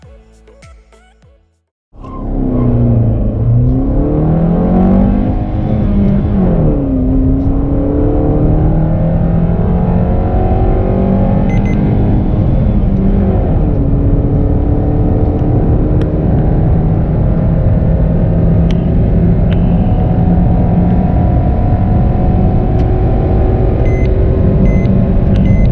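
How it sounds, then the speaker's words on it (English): A 2020 BS6 Maruti Suzuki Ignis with a K-series VVT petrol engine starts up and accelerates hard from 0 to 100, its loud, close engine note climbing through several gear changes with rising, falling revs. "So now let's do 0 to 100 acceleration and see how fast the car goes to 100."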